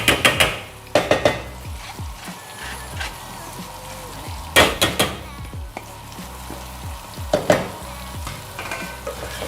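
Goat brain stirred and fried in ghee-rich masala in a pan, with close sizzling and bursts of spoon scraping against the pot at irregular intervals, no talking.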